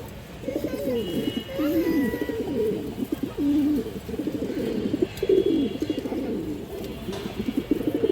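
Colorful pet pigeons coo in a steady overlapping chorus of low throaty rolls, several birds close by and calling without pause, with faint high chirps above.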